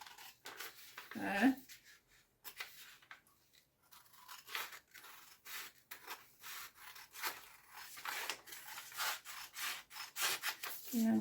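Scissors snip through fabric cut from a bikini pattern, producing soft, rhythmic crunching cuts that repeat close up at low volume, with a brief spoken word.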